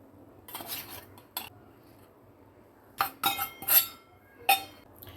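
Spoonfuls of milk powder tapped into a mixing bowl while making semolina gulab jamun, heard as a few soft spoon clinks and scrapes against the bowl, with quiet gaps between them.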